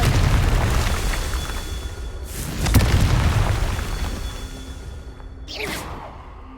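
Confringo blasting spells exploding in Hogwarts Legacy, a rumbling boom with whooshing bursts, a sharp crack near the middle and a final swishing blast, with no voices.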